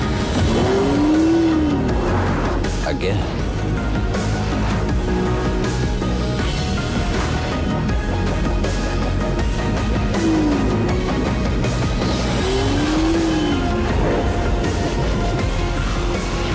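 A Porsche 911 sports car roars loudly and continuously, its engine revving with tires squealing in sharp rising bursts near the start and again later; a voice briefly speaks over it.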